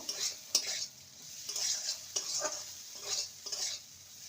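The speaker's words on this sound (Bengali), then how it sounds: "ভালো করে নেড়ে নেব" Soybean pulao being stirred in a pan, the spoon scraping and pushing the rice in repeated strokes over a soft, steady sizzle, close and clear with no voices.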